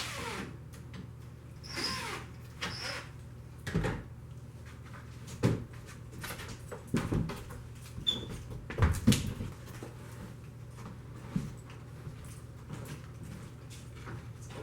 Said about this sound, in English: Once the screws are out, simply pull the side panel off, while another person holds the front panel on.